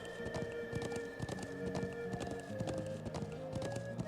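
Horse hooves clip-clopping during riding in The Legend of Heroes: Trails of Cold Steel, a steady trotting rhythm of hoofbeats layered over soft game music, with no one speaking.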